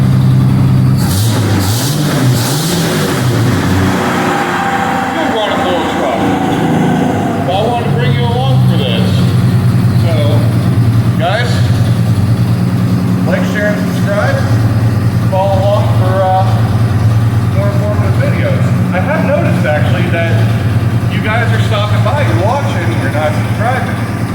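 A 1951 Chevy pickup engine idles steadily after its first start out of yearly storage, with the choke partly closed as it warms, a constant close rumble that runs under someone talking throughout.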